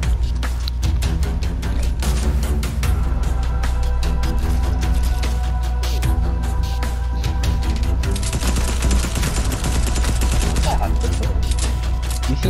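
Shotgun blasts and rapid gunfire in Fortnite Battle Royale pile into a dense, continuous barrage of loud shots over constant game noise, with players talking throughout.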